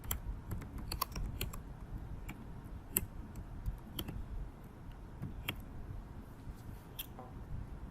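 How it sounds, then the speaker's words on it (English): Steady typing of a headline on a computer keyboard, with close, rapid key clicks in an irregular rhythm over a low background hum, and no voices. "So let me type a headline."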